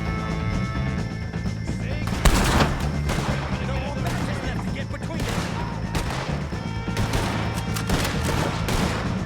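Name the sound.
gunfire in Red Dead Redemption 2 video game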